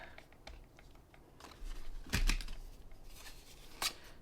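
Scissors snip a tiny piece of black paper scrap for papercraft, giving a few short, soft crisp cuts with quiet paper rustling between them, close by.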